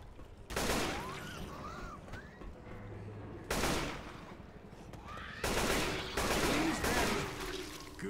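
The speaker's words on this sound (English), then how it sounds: "Gonna rack some up with this assault rifle." Assault rifle gunfire in the zombie shooter Left 4 Dead, with three long, loud sustained bursts of rapid shots separated by brief pauses, over a busy backdrop of game noise.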